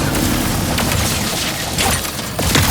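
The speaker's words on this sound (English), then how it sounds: "The Shatter Bomb is a frag-type grenade that deals a lot of damage to your foes" Shatter Bomb frag grenade detonating in the Ratchet & Clank game, a dense, loud continuous roar of blasts and crackling debris with repeated bursts throughout, no speech.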